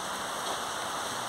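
City rain falls steadily, a dense, even hiss of drops on hard surfaces with no pauses or voices.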